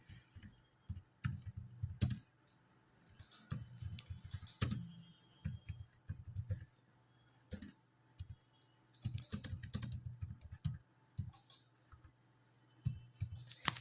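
Java code being typed on a computer keyboard, heard as bursts of quick, close key clicks separated by short pauses, with a clatter that is moderately loud and comes alone.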